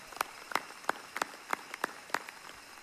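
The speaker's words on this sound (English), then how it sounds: "let's give her a big round of applause for pulling that off" Sparse, slow applause at a December 2023 undergraduate commencement for Mines: about eight distinct, sharp claps spaced evenly, close and isolated, with no voices.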